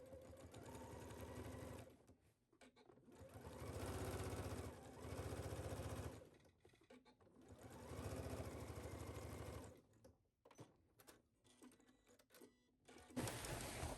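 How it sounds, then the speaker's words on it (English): A sewing machine runs in several bursts of a few seconds each while understitching a skirt pocket, a close, fast mechanical whir with short pauses and handling noises between the runs. "let's go ahead and do an understitch."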